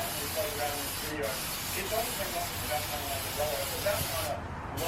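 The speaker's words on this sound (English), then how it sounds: "Spray this." Steady hiss of an aerosol spray paint can applying a light coat to a Razor MX350 pit bike seat, under a faint background voice, with a brief pause near the start and the spray cutting off at the end.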